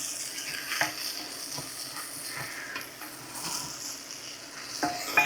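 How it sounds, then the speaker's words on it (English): Pepper steak sizzles and crackles steadily in a hot pan for a quick supper, a continuous close frying hiss with occasional stirring clinks and scrapes, no talking. "Yes, it's starting to sizzle over here."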